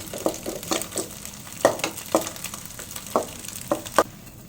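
Kitchen King masala is stirred into soya chaap curry in a frying pan, giving soft spoon scrapes and light sizzling in irregular strokes, close and fairly quiet.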